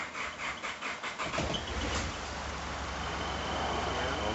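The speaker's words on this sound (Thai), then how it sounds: "สตาร์ทเครื่องให้ดูนะครับ" A car engine, just serviced at a repair shop, turns over with a rapid cranking chatter, then catches and settles into a steady, close running rumble.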